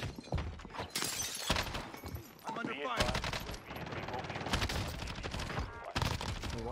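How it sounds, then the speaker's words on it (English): Rapid gunfire bursts and shattering impacts from a Call of Duty: Warzone match on Alcatraz, loud and dense with repeated volleys and heavy hits filling the whole stretch, with voices talking underneath. "I'm under fire."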